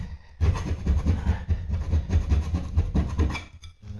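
Bitumen being scraped off a floor after parquet tile removal, heard as close, rhythmic rasping strokes in uneven bursts with short pauses.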